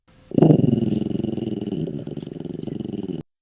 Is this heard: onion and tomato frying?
no